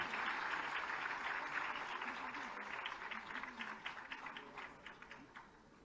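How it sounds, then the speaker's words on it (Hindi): Audience applause at a Lucknow awards ceremony honouring women for outstanding work, a dense steady clapping from a large crowd that gradually thins and fades toward the end, with faint voices mixed in. "तालियां आपकी संगीत का आभास देती हैं"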